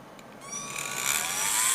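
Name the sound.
Orbitool deburring cutter in cordless grinder deburring intersecting holes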